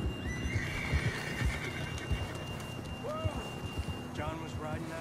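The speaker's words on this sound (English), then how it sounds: "John was riding that horse when we left Blackwater" Horse neighing and galloping in the video game Red Dead Redemption 2, with a whinny early and another later over steady clip-clop hoofbeats and ambient outdoor noise.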